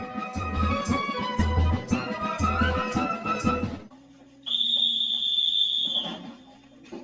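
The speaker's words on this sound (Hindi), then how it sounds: "ठीक 10 बजे की सीटी ऐलान करती है सोने के वक्त का" A whistle at an army camp signals bedtime: one steady, shrill blast of about a second and a half, heard after a stretch of loud rhythmic music.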